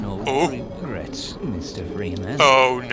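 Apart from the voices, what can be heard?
None of the usual background noises is heard.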